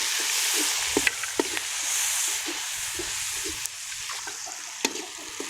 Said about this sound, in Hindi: थोड़ा सा पानी का छिड़काव देंगे।